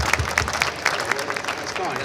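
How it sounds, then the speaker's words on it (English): An audience at a motorcycle show interview in London applauds briefly, with scattered clapping and cheering mixed with talk nearby. "So why don't we give him a massive round of applause?"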